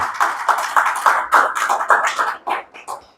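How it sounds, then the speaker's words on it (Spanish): Church congregation clapping in praise to God during a sermon, a few pairs of hands beating a fairly regular rhythm, close and moderately loud, slowing and thinning out at the end. "¿Cuántos le pueden dar un aplauso al Señor?"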